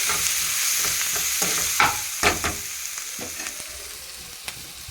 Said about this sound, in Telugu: ఉల్లిపాయలు అయితే బాగా వేగినాయి